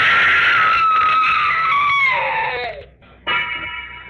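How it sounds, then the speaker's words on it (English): A woman's piercing scream in a 1945 radio drama rises loud and sustained, then bends downward and breaks off, followed by a short gap and a renewed shriek. "I wish I never heard that scream."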